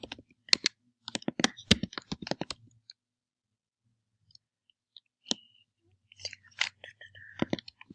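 HTML code typed on a computer keyboard, quick bursts of crisp key clicks near the mic, then a pause with a few stray taps before another short flurry of typing.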